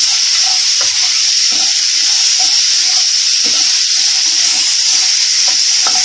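Spices and dry chilli powder frying in a pan for a fish curry, a steady bright sizzle throughout with soft scraping stirs scattered across it, close and loud with no talking.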